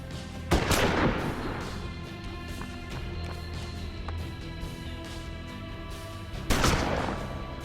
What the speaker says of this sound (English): I say take the rifle shot first, because it's the longer range shot.